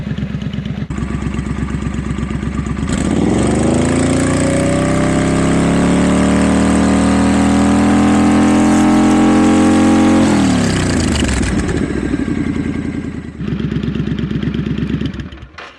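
A Triumph Scrambler motorcycle with an aftermarket Hitchcox exhaust idles loudly, then revs above 4,000 rpm and holds a high, droning engine note before dropping back to a rough idle.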